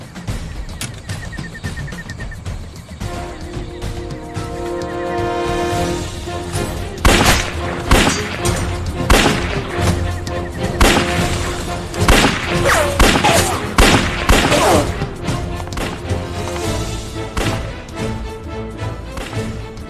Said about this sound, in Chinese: 谁动我就开枪了